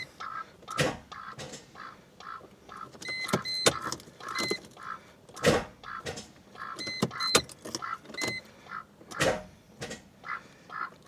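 A Mercedes S500 Coupe engine cranks in a repeated rhythmic burst pattern with a whining tone, close and fairly loud, struggling to catch, with no talk.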